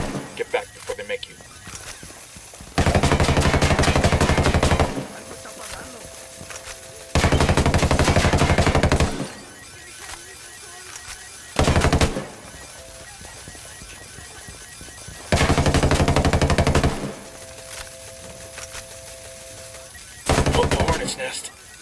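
Bursts of automatic gunfire in the video game Ghost Recon Wildlands, four long loud volleys of rapid shots separated by short pauses, with a brief burst near the end and talk in between.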